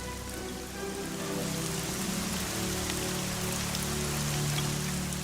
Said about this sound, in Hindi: परंतु बारिश होती रही।